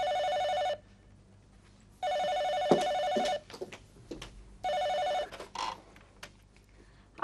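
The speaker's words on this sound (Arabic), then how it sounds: "وروح ارد على التليفون." An old landline telephone in an Egyptian TV drama rings in three long electronic bursts with gaps between them. Clunks and handling noises fall in the pauses, and the ringing is close and clear.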